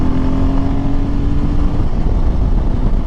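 A Royal Enfield Himalayan six-speed motorcycle getting up to speed on a highway, with a loud, continuous engine drone mixed with heavy wind rush, close and steady across the whole stretch.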